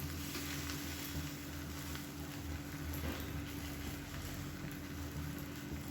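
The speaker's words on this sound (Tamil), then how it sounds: "முட்டை ஊற்றும்போது நல்லா கலக்கி விட்டுட்டு ஊற்றிக்கோங்க." Beaten egg mixed with onion sizzles in an oiled pan over a medium flame, a soft, steady frying hiss that stays faint and continuous throughout.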